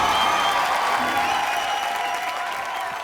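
Studio audience applauding improv dancing on an Indian comedy show, a loud, continuous wash of clapping with light cheering that slowly eases off, a voice faintly audible underneath.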